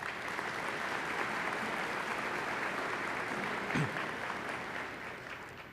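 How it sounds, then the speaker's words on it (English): Audience applause at a Lake Sumter winter commencement ceremony, a steady, dense clapping from a large crowd that holds for several seconds before gradually thinning and fading at the end. "Please give them a round of applause."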